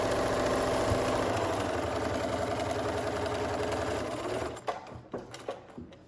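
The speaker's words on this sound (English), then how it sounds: "So I'm gonna just sew down the edge, finish that French seam." A sewing machine stitches down the edge of a lightweight towel to finish a French seam, running in a steady close whir for about four seconds before stopping, followed by a few soft handling clicks and bumps.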